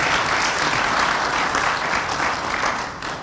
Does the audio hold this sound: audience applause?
yes